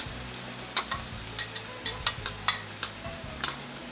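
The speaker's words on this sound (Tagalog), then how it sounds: "Igigisa natin ito sa langis na atsuete hanggang sa malanta ang sibuyas." Crushed garlic and finely chopped onion sautéed in annatto oil, a low steady sizzle broken by close, sharp scraping clicks of stirring at an uneven pace, no voices.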